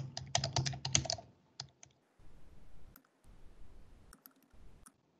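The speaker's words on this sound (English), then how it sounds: "You ask the question by typing it into the question box." Rapid bursts of typing on a computer keyboard, a dense flurry of clicks followed by scattered single keystrokes against a quiet background, with no talking.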